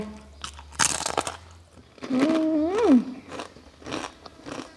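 Close, loud crunching bites of fried chicken skin cracklings eaten at a Thai meal of rice noodles with fermented fish sauce, a few sharp crisp bursts followed by chewing, with a brief voiced hum from the eater in the middle.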